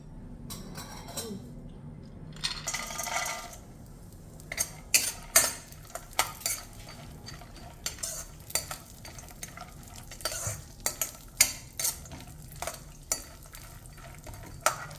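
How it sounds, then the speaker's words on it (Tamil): Almonds and cashews are stirred and roasted in ghee in a pan, with a steady low sizzle beneath repeated clinks and scrapes of a spoon against the metal, close and fairly loud. "நம்ம பாதாம் முந்திரியை நெய்யில் வறுத்துட்ருக்கோம்."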